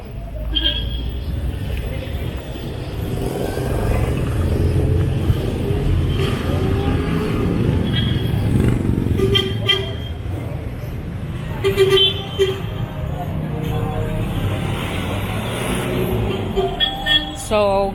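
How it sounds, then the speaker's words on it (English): Street traffic in Tabunok, Talisay City, Cebu, Philippines: a steady roar of engines, rumbling vehicles and repeated car horn toots, both near and far, with occasional voices in the background. "The traffic have now started to build up."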